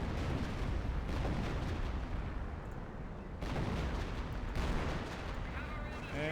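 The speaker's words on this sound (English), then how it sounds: "here comes the creeping barrage from the priest" A creeping artillery barrage from a Priest self-propelled gun in Company of Heroes 2 rumbles on without a break. The dense, booming blasts overlap with gunfire and swell and ease over several seconds, and a voice talks over parts of it.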